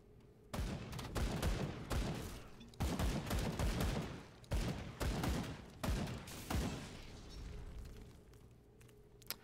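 Rapid bursts of gunfire from the video game Grim Dawn, with a demolitionist character shooting at a wall, come in several loud clustered volleys separated by brief pauses.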